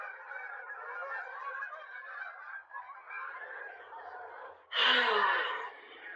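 Geese honk in a continuous nasal chorus at moderate distance, then one loud close honk bursts out before the flock continues.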